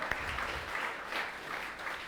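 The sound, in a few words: congregation applauding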